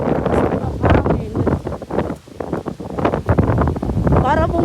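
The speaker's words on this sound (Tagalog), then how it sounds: "Sobrang hangin." Strong gusting wind sweeps across a beach during a sudden squall with rough seas and blowing sand, roaring and buffeting the microphone in loud bursts as a person talks over it.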